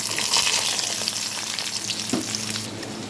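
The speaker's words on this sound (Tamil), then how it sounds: "இப்போது கடாயில் எண்ணெய் ஊற்றி கடுகு போட்டு தாளிச்சிட்டேன். இப்போ இந்த பொட்டேட்டோவை நம்ம சேர்த்துடலாம்." Cubed potatoes hiss in hot oil tempered with mustard seeds, a steady close sizzle with a single soft clack of a spatula near the end.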